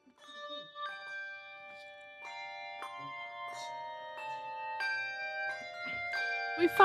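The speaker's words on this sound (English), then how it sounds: "Turns out we were just in time for the church's handbell concert." A church handbell choir plays a holiday concert in Palmer, Alaska: clear ringing handbell tones struck one after another in a slow melodic sequence, each note sustaining and overlapping the next, moderately quiet with faint room noise.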